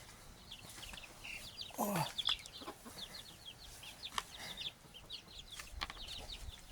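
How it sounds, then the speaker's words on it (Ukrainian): Several hens with chicks cluck and peep around a farmyard, a steady chatter of soft clucks and high chick cheeps with one louder hen call near the middle. "Шість квочок з виводками."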